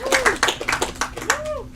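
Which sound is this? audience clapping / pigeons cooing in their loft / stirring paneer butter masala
audience clapping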